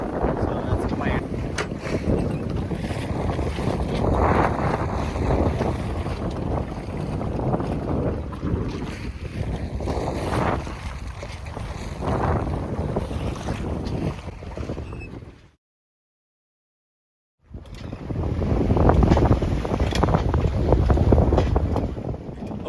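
Wind roars steadily across a Com-Pac 23 sailboat on a broad reach at about six knots, with loud microphone buffeting and rushing water, breaking off briefly into silence before resuming.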